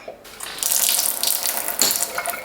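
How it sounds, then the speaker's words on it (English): Water gushes steadily from a newly installed boiling water tap after its tank is primed, a loud, close, hissing flow that starts abruptly and runs on without pause. "we have water flow, the tank is now primed"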